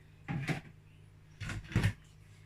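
A lid goes onto a pot of honey beans cooking with onions: one short knock, a pause, then two quick clunks close together, close and fairly loud.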